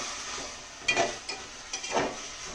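Brinjal sabji with red chili masala powder is stirred in a pan over a soft, steady sizzle, with two short scraping strokes of the spoon standing out.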